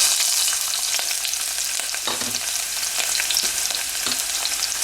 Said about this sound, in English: Then I'm going to add our chopped onions.